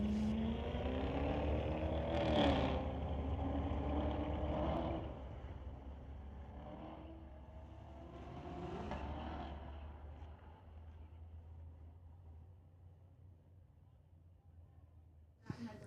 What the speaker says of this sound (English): Ken Jansen here from Abbey in his 2019 Corvette solo pass on the titanium strip